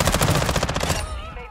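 Rapid machine-gun fire in Call of Duty: Modern Warfare II, a loud, close string of evenly spaced shots lasting about a second, then thinning into a fading tail of softer echoes.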